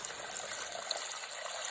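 Water gushing steadily out of a flushed garden pond filter pipe, a continuous hissy rush that stays even and fairly close, with no talk over it.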